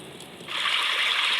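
Stream ambience from the iOS 18 background sounds: a brief quiet lead-in, then a loud, steady rush of flowing, splashing water that holds evenly to the end, with no voices.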